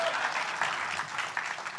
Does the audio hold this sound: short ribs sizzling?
no